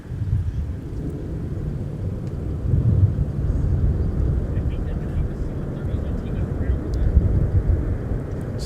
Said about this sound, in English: The SkyWest Embraer 175LR headed to Cedar Rapids